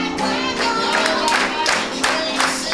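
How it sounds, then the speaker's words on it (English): Rhythmic clapping from a dinner show audience, repeated claps in a steady beat, fairly close and loud. "Let me see if you can clap."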